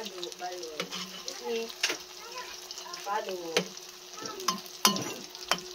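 Tofu fries in a pan on a budget home stove, a steady close sizzle with crackling pops and scraping stirs, while a voice talks over it.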